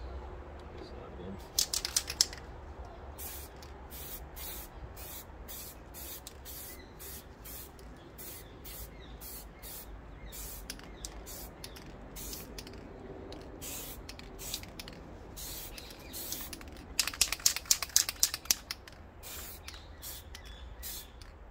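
A spray paint can hisses in short bursts while painting a Ford Fiesta front grille, quiet and close, with clusters of rapid sprays and rattles near the start and again near the end, and people talking in between.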